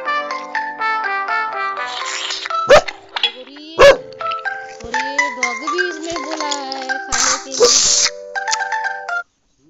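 Cartoon dog barking in the mobile game Talking Ginger 2, short loud barks mixed with bright chiming game jingles and playful tones, a clear burst around the middle.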